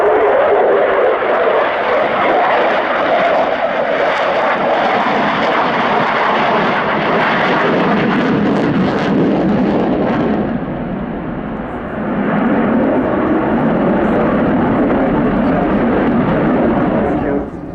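A Sukhoi Su-27-P1M Flanker jet flying an air display roars loudly and continuously, the engine noise swelling and easing briefly as it passes, with someone talking over it.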